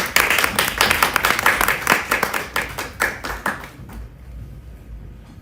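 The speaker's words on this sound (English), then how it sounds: "Please a round of applause for him." An audience claps for a leadership institute's executive director at a conference, a brief burst of distinct, fairly close hand claps that thins out and stops after about four seconds, leaving quiet.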